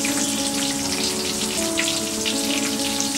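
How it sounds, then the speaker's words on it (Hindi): Mixed vegetable cutlets frying in oil make a constant, dense, rain-like sizzle that stays even throughout, with faint tonal hum underneath. "इसी तरह हम बाकी सारे कटलेट्स भी फ्राई कर लेंगे।"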